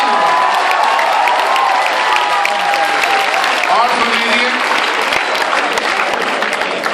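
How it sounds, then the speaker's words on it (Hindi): Audience applause at a Hindi poetry recital, a kavi sammelan held at ABV-IIITM, fills the room with steady dense clapping throughout. A voice speaks briefly over it. "और थोड़ी तालियां और मिलनी चाहिए।"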